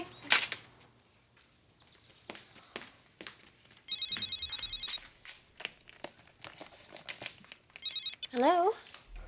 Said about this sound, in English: Is your phone? Yes, I'm sorry. I thought I turned it off.